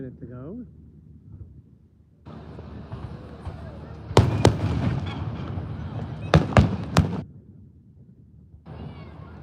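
Fourth of July fireworks go off in a cluster of loud, sharp bangs and crackling bursts, mostly in the middle of the stretch, over steady outdoor background noise with voices faintly present.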